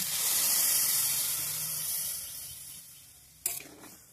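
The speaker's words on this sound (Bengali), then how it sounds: "এবার এর মধ্যে আমি দুধটাকে দিয়ে দেবো" Milk poured into a pan of pasta and ghee for pasta payesh gives a steady hissing, steamy sizzle that gradually eases off, with a brief sharp clatter near the end.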